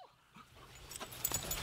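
A female hunting dog lets out soft, brief whimpers and whines during scent-based hunt training, close by and quiet, with some rustling movement.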